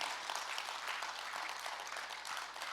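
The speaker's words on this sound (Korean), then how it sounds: "박수 치면서 아멘." Church congregation applauding during a revival sermon at a fasting prayer retreat, a steady dense wash of many hands clapping throughout, fairly close and even, with no talking over it.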